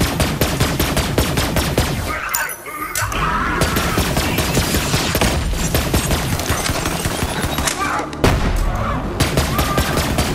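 Rapid automatic gunfire from the video game Borderlands 3 rattles in dense, loud bursts. A brief lull near the third second and a heavy boom around the eighth interrupt it.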